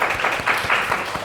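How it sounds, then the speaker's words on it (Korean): A Korean church congregation gives a short round of welcoming applause during Sunday worship, loud, close clapping that runs for just over a second. "환영의 박수 하겠습니다"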